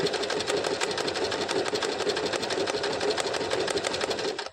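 A sewing machine stitches embroidery in one steady, fast, loud run of rapid needle strokes, close and even for several seconds before stopping abruptly, with no voice over it.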